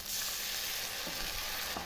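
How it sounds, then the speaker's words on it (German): Water hitting a hot pan of browned onions, a soft continuous sizzle with a few stirring clicks and scrapes, close but faint, with no voice. "So, ich lösche das jetzt nochmal ab."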